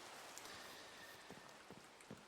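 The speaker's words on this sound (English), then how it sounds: "it is quite a rainy day." Steady Minecraft rain hissing evenly as a soft, continuous wash with faint droplet patters, no voices present.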